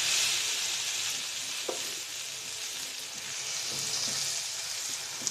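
Fish pieces fry in hot oil with a little turmeric, giving a steady, dense sizzle with occasional pops and faint stirring, close and loud with no talking.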